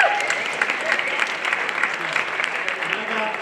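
An audience gives a band a big round of applause, steady dense clapping throughout at moderate level with no voices standing out.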